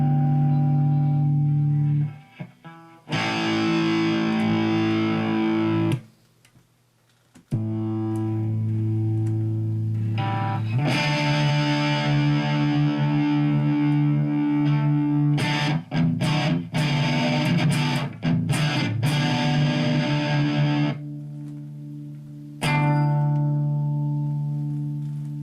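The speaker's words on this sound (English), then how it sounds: "We'll add a little distortion." Electric guitar played through a distortion effect pedal in a home pedal rig, with sustained gritty chords and notes ringing out loudly, broken by a few abrupt silent gaps as the signal cuts in and out.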